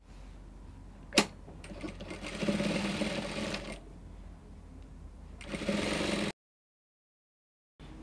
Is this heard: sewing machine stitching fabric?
yes